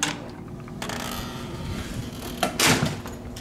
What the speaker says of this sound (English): we're going to take our room key, like that, swipe it inside, take it out, and open the door.